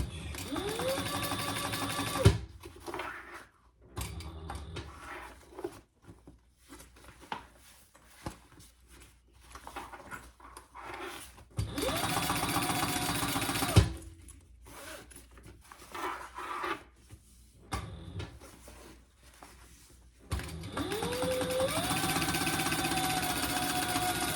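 A sewing machine topstitches a triple-zip crossbody bag in three steady runs, with quieter rustling and handling of the fabric in the pauses between them.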